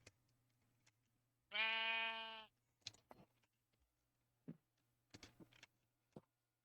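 A sheep in the Minecraft video game lets out one loud, clear bleat lasting about a second, followed by scattered quieter game clicks and footsteps against a low steady hum.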